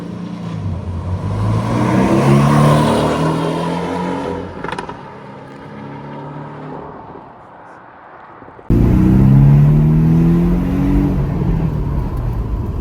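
A rebuilt Porsche Cayman S engine revs and pulls away, rising in pitch as it accelerates, easing off mid-clip, then surging loud again after an abrupt cut.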